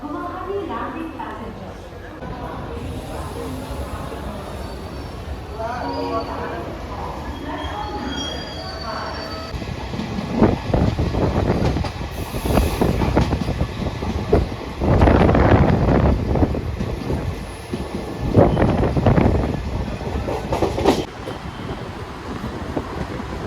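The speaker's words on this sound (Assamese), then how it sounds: "মানে ট্ৰেইন যোৱাকৈ অপেক্ষা কৰি আছোঁ" Voices talk at first, then a train rumbles past with rhythmic clattering wheels and squeals, loud and close for several seconds, in Guwahati.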